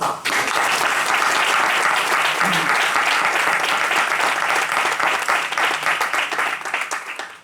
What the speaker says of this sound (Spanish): Eso se merece un aplauso, ¿no?